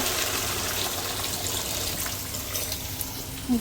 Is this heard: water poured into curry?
yes